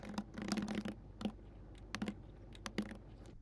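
Quick bursts of typing on a computer keyboard, entering a question into an online quiz, with clustered key clicks and short pauses between groups, close and fairly quiet.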